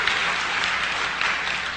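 Crowd applauds investigative journalist Jane Burgermeister, a continuous hiss-like spatter of many hands, even in level and somewhat distant.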